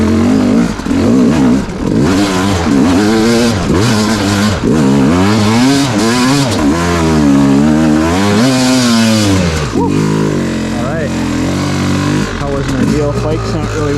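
Enduro motorcycle climbing a wet hill in second gear, its engine loud and close throughout with rising and falling revs as it labours up the slope.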